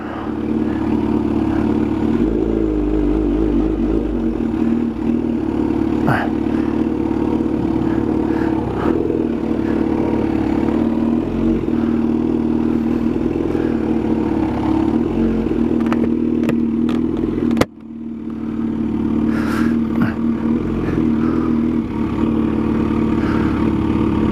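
Kawasaki ZH2 motorcycle doing a dry hop at a drag strip, its engine note steady and loud and close throughout, with a brief dip partway before it picks up again.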